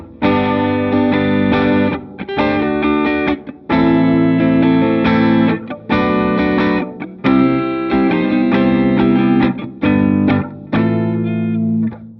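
Electric guitar run through a Bias FX 2 Pro pop preset with gate, amp, reverb and greenback cab, a clean tone, playing loud chords in bursts with short gaps between phrases.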